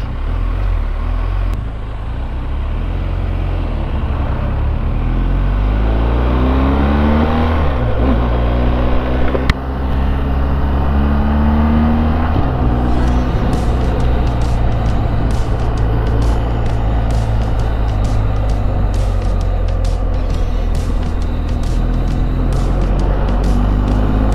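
A BMW R120 GSA motorcycle setting off on a ride near Tagaytay, its engine a steady close drone that rises and falls in pitch as it moves off through gears under continuous wind and road noise.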